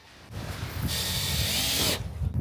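An electric drill whirs in short bursts, driving stainless steel self-tapping screws into a boat, one sustained high whine in the middle, close and fairly quiet.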